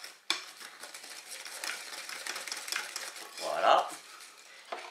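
Vanilla cake batter being mixed in a bowl, with soft steady scraping and clinking of a utensil against the bowl, a sharp knock near the start and a louder clink just before the end.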